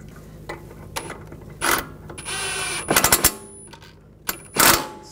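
A ratchet snugs a bolt on a 2004-2009 Audi A4 Quattro outer tie rod, with several close, bursty clicking runs of the pawl, one longer rattling stretch and short pauses between strokes.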